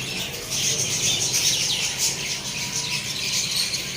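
Dense flock of caged lovebirds and finches in a pet shop chirping, squawking and tweeting continuously, a busy overlapping chorus at close range with no talk.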